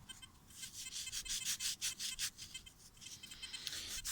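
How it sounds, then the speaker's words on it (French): A freshly dug-up old French coin is rubbed by hand to clean it, giving quick, repeated scratchy strokes close by, faint and rhythmic. "Je la frotte un peu."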